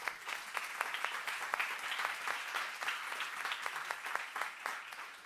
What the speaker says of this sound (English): Why don't we give them an applaud?